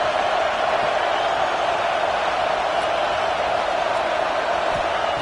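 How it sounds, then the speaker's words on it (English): A football stadium crowd at an Ohio State versus Michigan game roars in a steady, dense wall of noise to help the defense near the goal line. "The crowd really making some noise now, trying to help out this defense to get this stop near the goal line."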